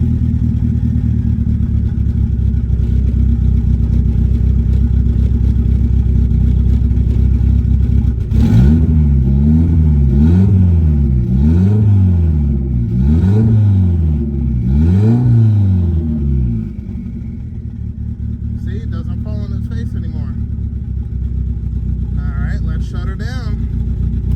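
A 1990 Mitsubishi Eclipse GSX idles with a low rumble, then catches and revs hard several times in rising and falling sweeps before dropping back to a rough idle, with a voice speaking briefly near the end.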